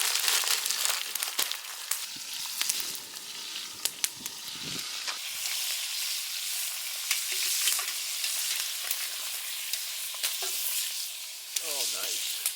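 Beef short ribs searing in a hot pan for ragu, a close, loud, continuous sizzle with crackles and pops and occasional scraping as the meat is moved, a brief voice near the end.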